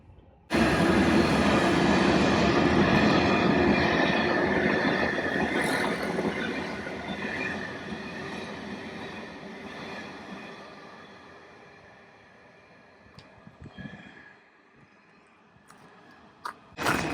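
The Arctic Express train from Stockholm to Narvik rumbles steadily along the rails through Northern Lapland with a loud, broad roar that slowly fades, followed by a few faint clicks and knocks.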